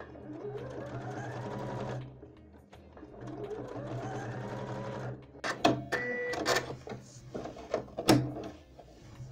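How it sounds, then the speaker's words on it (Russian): Sewing machine fitted with a twin needle running stretch stitching on knit fabric for a hat: two steady, close motor runs of about two seconds each, followed by scattered clicks and handling sounds as the fabric is adjusted. "даем эластичную строчку с помощью двойной иглы"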